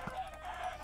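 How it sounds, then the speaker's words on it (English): A Minecraft chicken gives a short cluck at the start of a brief moment, over quiet game background. "Hello, chickens."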